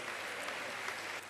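A theatre audience at the Zéphyr applauds to welcome a Guyanese singer onto the stage, a dense, even wash of clapping that holds steady throughout.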